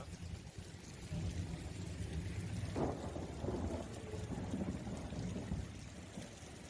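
Steady rain pours down with a low, distant rumble of thunder underneath, fairly quiet and continuous throughout, during a heavy storm with strong winds in Amreli district, with water running off the road.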